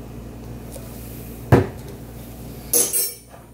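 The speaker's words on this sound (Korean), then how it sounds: "식초 2스푼 넣고요" Two spoonfuls of vinegar go into a bowl of red pepper sauce, each marked by a sharp clink of spoon against bowl about a second apart, the second followed by a brief rattle, over a quiet kitchen background.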